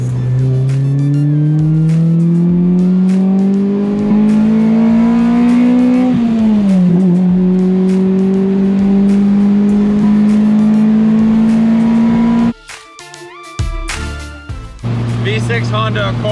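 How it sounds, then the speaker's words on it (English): A V6 Honda Accord pulls hard, its engine note climbing steadily through the revs, dropping briefly at a shift, then rising again before cutting off abruptly; loud and close. "Just did a little pull with that Honda Accord in the last shot."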